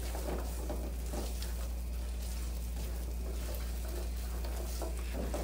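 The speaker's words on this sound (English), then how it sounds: "I'm just gonna saute these into my" Onions sauté in a pan for a breakfast burrito, giving a faint, steady sizzle with occasional soft stirring scrapes over a low background hum.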